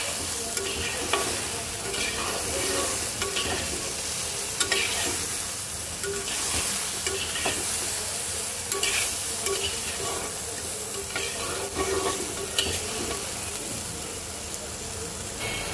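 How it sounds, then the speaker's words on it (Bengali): Spice paste with salt being stirred in a pan for a hilsa fish curry with potato and eggplant: steady close sizzling frying under continuous scraping stir strokes, fairly loud throughout, with a hint of voice in places. "মিক্স করে দেব।"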